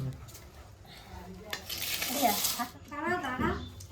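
Onions frying in a pan in a village kitchen give a bright, hissing sizzle that swells midway, mixed with scraping stirs and pot clatter while people talk nearby.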